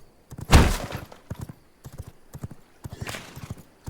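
Horse hooves clip-clop in the video game V Rising: a slow, steady series of close hoof thuds, with a louder thump and snort-like burst early on and another burst near the end.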